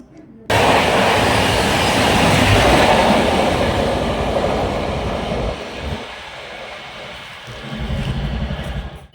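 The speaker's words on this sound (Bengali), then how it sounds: "অনেক অপেক্ষার পরে ট্রেন এলো" A long-delayed passenger train pulling into an Indian railway station, a sudden loud rumbling roar of wheels and carriages that stays heavy, then eases and swells again, with faint crowd noise around.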